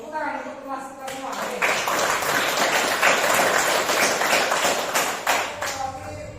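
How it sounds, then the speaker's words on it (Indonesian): A school class applauding together, a dense burst of clapping from many hands that swells and holds for several seconds at close range, with a teacher's voice talking at the edges. "Tepuk tangan untuk kelas kita semua."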